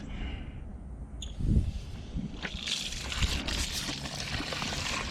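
A garden hose rinses a JLT air filter, water sloshing and splashing up close in uneven bursts, building to a steadier spray toward the end with no talking.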